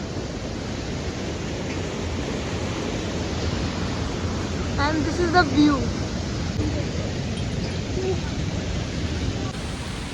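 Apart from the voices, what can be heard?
small waterfalls on a mountain trek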